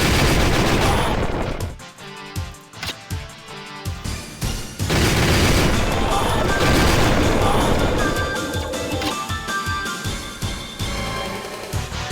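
Loud, dense gunfire from the video game Death Crimson as weird robots are shot: rapid bursts and volleys crackle almost continuously, with brief gaps early on, layered over game sound.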